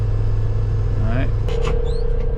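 Road traffic near a truck terminal, a steady low engine rumble from inside a truck with passing vehicle tones and brief squeals, continuous and fairly loud, with a voice talking over it.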